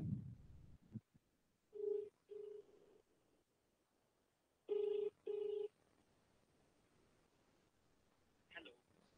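A phone ringing on an incoming call, heard as two pairs of short electronic ring bursts spaced a few seconds apart, moderately loud against a quiet room with a brief thump at the start.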